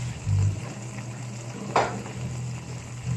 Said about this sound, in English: Now we're gonna put another strip of bacon on this.